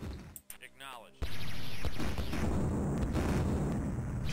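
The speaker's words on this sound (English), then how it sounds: "I'm hearing lots of explosion sounds" Explosions from the Amiga strategy game Dune II, a dense continuous roar of blasts and booms that swells up abruptly after a brief quieter start and stays loud to the end.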